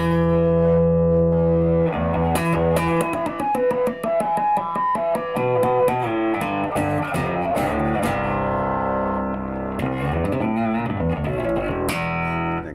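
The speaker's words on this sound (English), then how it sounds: "Cleans right up with the distortion off." A clean electric guitar plays a run of bright, ringing notes and chords, loud and close, without distortion, for the whole stretch.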